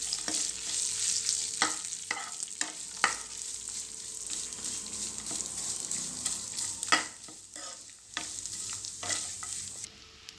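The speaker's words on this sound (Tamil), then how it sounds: "சேர்த்துட்டு இதையும் ஒரு நிமிஷம் நம்ம வதக்கிடலாம்." Grated coconut and curry leaves sauté in a pan, giving a steady soft sizzle broken by repeated scraping stirs of a spoon, close and alone with no talking.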